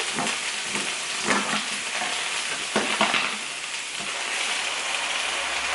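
Ground beef sizzles loudly in a skillet while diced tomatoes with their juice go in, giving a steady frying hiss with a few stirring scrapes and louder bursts as the wet tomatoes hit the hot pan.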